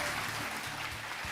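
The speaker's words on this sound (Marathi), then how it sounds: "आणि या टाळ्या अशाच वाजत राहू द्या" Studio audience applause on the Marathi courtroom-style talk show Aap Ki Adalat: a dense, steady wash of many hands clapping at once, continuous and fairly loud throughout, with a faint low tonal hum underneath.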